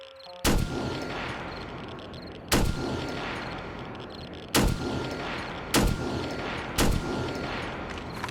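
Rifle gunfire in the zombie survival video game 7 Days to Die: five sharp, loud shots spaced irregularly over eight seconds, each with a long reverberant tail, over a steady background hum.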